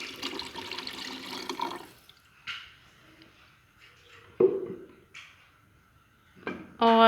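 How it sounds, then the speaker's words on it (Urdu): Five glasses of water go into a pot of mixed vegetable pulao, heard as several short, separate splashes and gushes broken by quiet gaps, close by, with no one talking. "اس میں ہم پانی ڈالیں گے، 5 گلاس پانی ڈالیں گے"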